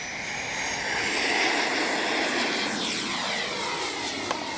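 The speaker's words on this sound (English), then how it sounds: "It's a fast little plane now." A Freewing Yak 130 radio-controlled 70mm jet streaks past in flight, its ducted-fan whine rising and then sweeping down in pitch as it passes and fades, loud and alone.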